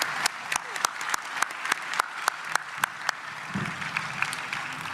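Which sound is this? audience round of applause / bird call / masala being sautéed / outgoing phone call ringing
audience round of applause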